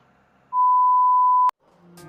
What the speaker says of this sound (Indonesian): Namanya motorbike atau bicycle anti-theft alarm